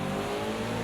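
Ford Mustang GTD race car at speed on the Sonoma track during a 12-hour endurance race, a loud, dense engine roar filling a short close moment with no talk.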